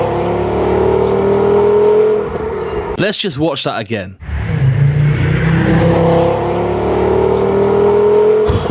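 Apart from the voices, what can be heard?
VW Beetle with Powerflow exhaust doing flybys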